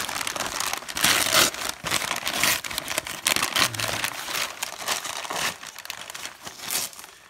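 Reused plastic packing material crinkles and crumples continuously as a parcel of plants is unpacked, close and fairly loud with rustling bursts throughout.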